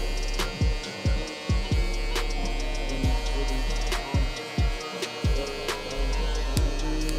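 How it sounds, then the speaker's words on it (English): Electric hair clipper running steadily through a fade haircut with the lever closed, a close, continuous mains-like hum with repeated short bursts as the blade passes through hair, no speech. "we're gonna come in with our clipper, lever all the way closed"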